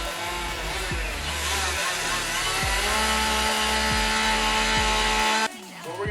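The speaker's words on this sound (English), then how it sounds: "we're going to go around the line we just drew with our chainsaw" A chainsaw cuts along a drawn outline while carving a log into a sea turtle, its engine droning loud and close with repeated revving swells and dips as the bar works the wood, then dropping to a lower idle at the end.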